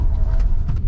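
A rear-wheel-drive Hyundai Ioniq 5 electric car slides around, giving a low rumbling road and tyre noise with faint scrubbing bursts, steady and fairly loud.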